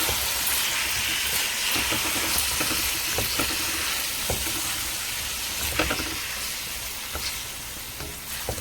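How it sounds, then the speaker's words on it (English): Shaved beef for pepper steak fries in a pan with a steady, loud sizzle, with occasional soft stirring clicks and no talking. "Fry it up."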